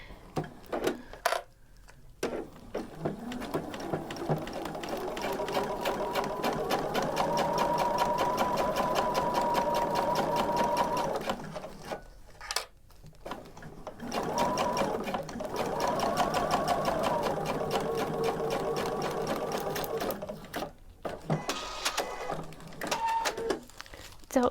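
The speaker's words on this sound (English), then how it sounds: "Since I'll be sewing on the bias tape and not the actual vinyl, I could take it or leave it" Sewing machine stitching bias tape onto vinyl with a Teflon foot, running in two long bursts of rapid whirring stitches broken by brief pauses, close and clear.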